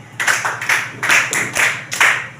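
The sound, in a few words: class clapping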